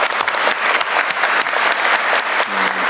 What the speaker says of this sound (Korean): 박수도 한번 하시죠